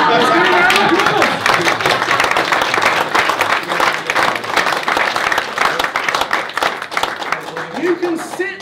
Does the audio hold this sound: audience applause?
yes